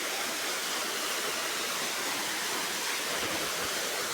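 Waterfall at Kolhevajra flowing with plenty of water, a steady broad rushing roar that stays even throughout, with no voices over it.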